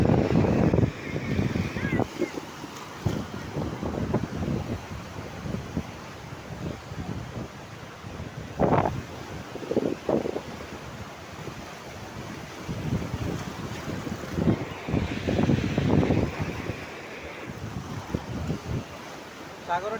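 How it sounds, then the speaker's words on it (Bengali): Big sea waves roll in at high tide under strong wind. The surf roars and crashes in repeated surges, with gusty wind buffeting the microphone. "সাগরের ঢেউ দেখছেন কত বড় বড় ঢেউ"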